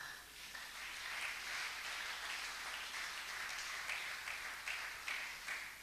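A church congregation applauding during a French-language sermon, a steady wash of many hands clapping at moderate distance, swelling and fading with a few sharper bursts toward the end.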